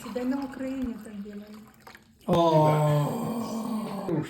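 A drink is poured at an outdoor gathering, a loud liquid rush that starts abruptly midway and continues steadily, following a stretch of low voiced sound.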